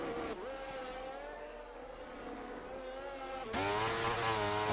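An F1 car engine in F1 23 at Suzuka screams at high revs, a sustained near whine that dips, then surges louder as the car powers out of the final corner.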